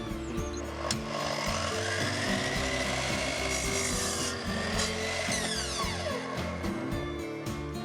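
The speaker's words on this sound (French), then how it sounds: "On assemble tout cela en les vissant en montant." Power tool whirring and grinding as screws are driven into wood, with rubbing and scraping noises and shifting pitch as boards for a chicken coop are worked.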